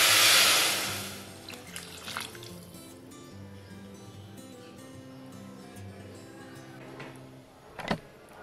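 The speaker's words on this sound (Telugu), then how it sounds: "ఇప్పుడు వాటర్ ని యాడ్ చేసుకుందాము" Water gushes briefly into rice in a pan while vegetable pulao cooks, a loud splashing burst at the start that fades quickly, followed by a person speaking over faint kitchen background.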